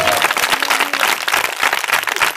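A church congregation clapping loudly and rhythmically, dense close applause filling the whole moment with no pauses.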